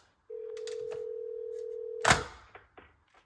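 A house phone system plays a call-connecting tone, a single steady electronic beep held for about two seconds, quiet and clean, followed by a sharp click and a few faint handling noises.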